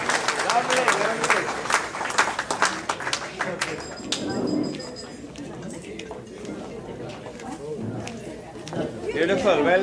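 Guests at a winter dinner dance applaud a singer with a burst of dense clapping that fades after a few seconds, giving way to someone talking with light crowd murmur.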